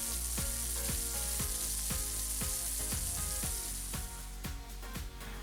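Garlic sizzles hard in a pan alongside lamb chops: a loud, steady, hissing fry runs throughout, punctuated by regular soft knocks roughly every half second.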